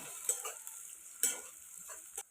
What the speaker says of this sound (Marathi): टोमॅटो पण आपल्याला मस्त तळून घ्यायचा